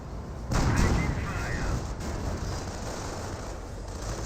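Tank destroyer gunfire and artillery in the Company of Heroes video game, a loud boom at the start giving way to a dense rumbling battle din of distant blasts that continues steadily throughout.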